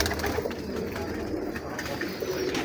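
Pigeons coo on a rooftop in a steady, soft stream of overlapping low calls, fairly faint against a light background hiss.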